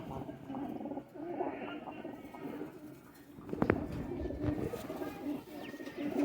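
Nele Patti pigeons coo in a loft, giving low, soft, repeated burbling calls close by, with one louder call near the middle.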